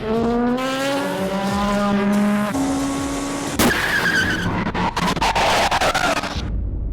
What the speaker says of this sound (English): That's a tyre gone 200 miles an hour down the Mulsanne Straight.